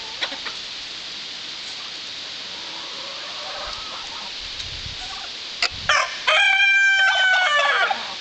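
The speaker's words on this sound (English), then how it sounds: "we've got turkey and chicken calling in the same time" Farmyard turkeys and chickens call over one another, a rooster-like crow and gobbling rising near the end after a stretch of quieter clucking and background fowl chatter.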